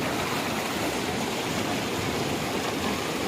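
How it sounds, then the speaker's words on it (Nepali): Water rushes steadily through an irrigation channel in a continuous broadband hiss, like a stream flowing strongly nearby, with no voices. "यसरी पानी मुनिदेखि बग्छ"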